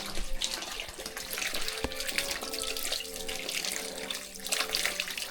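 Water runs steadily from a tap at a riverside campsite, a continuous splashing gush heard up close with no talking.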